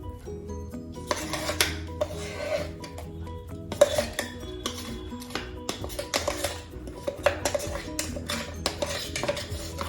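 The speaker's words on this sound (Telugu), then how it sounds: "ఈ పేస్ట్ కూడా ఇందులో కలుపుకుందాం." Spice paste being mixed into cauliflower and red chilli pickle with a utensil: close, repeated clinks, taps and scrapes against a metal bowl in an uneven stirring rhythm, over faint steady background tones.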